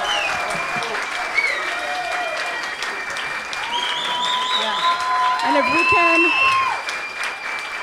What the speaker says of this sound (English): if everyone can please give him a round of applause.